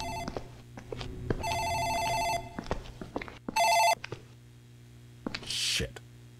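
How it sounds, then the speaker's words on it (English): Office desk phone in the game Dark Fracture ringing in repeated electronic bursts, loud and close, with a low steady hum and a few soft footsteps between rings. "Phone in the office ringing."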